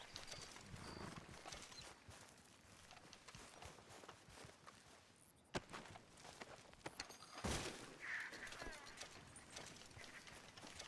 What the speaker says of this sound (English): I hear horse hooves in the distance.